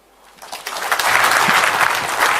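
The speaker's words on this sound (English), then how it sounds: "Big round of applause for Lakshmanan, sir." Audience applause at a formal port golden jubilee ceremony in a large hall, beginning with a few scattered claps and swelling within a second into sustained, dense clapping from a sizeable crowd.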